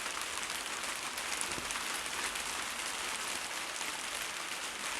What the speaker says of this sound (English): Wet and rainy day in the UK.